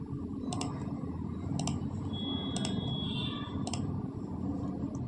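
Sharp computer mouse clicks, about four single or double clicks spaced roughly a second apart, over a steady low room hum while uninstalling software on a Windows 10/11 PC.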